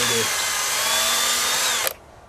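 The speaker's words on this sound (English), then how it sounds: "I just need to pre-drill some holes and then put some screws in" A power drill whirs steadily at high speed for about two seconds, pre-drilling screw holes while installing an exterior door, then stops abruptly.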